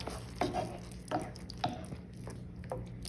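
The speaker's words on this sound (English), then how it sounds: "Stir this up." A spoon stirring a thick tomato and cream sauce with paprika and cayenne in a pot, giving about five soft, wet, squelching scrapes at a steady rhythm, close and fairly quiet, with no talk.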